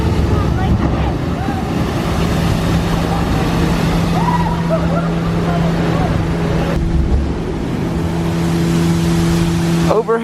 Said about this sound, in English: I don't know if you can hear that humming, but right back here they're doing some construction work.